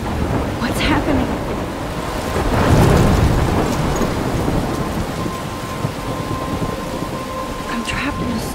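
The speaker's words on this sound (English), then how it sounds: "I'm trapped in a storm?" Steady heavy rain and rumbling thunder in a Life is Strange storm, with a loud thunder swell in the middle and occasional sharper crackles, constant and close with no talking.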